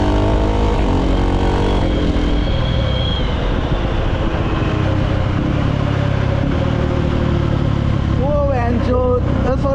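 A KTM Duke 390 motorcycle fitted with an aftermarket Domkol exhaust pipe, a loud close engine drone with rising and falling revs as it downshifts, while a voice talks over it throughout.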